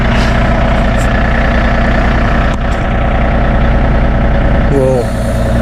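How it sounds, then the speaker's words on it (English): A 2019 John Deere 3025E compact tractor with a 370B backhoe runs steadily at idle, its engine droning close and loud without a break, with a brief hydraulic whine near the end. "then we can operate the backhoe"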